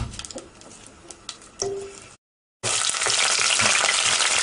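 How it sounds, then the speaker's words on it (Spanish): Chopped garlic frying in a pot for garlic soup, with a few light clatters and stirring scrapes, a brief silence, then a loud, dense, close sizzle that fills the rest. "ya hemos puesto todos los ajos así picados. Y ahora le vais dando vueltas."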